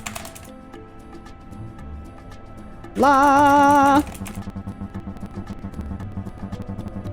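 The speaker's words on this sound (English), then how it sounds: "This is a mechanical keyboard with cherry blues, so it is clicky AF" Clicky typing on a mechanical keyboard with Cherry Blue switches runs close and steady while playing Final Fantasy XI, broken by a loud one-second electronic beep partway through.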